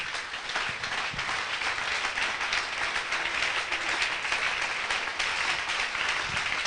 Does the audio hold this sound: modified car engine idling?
no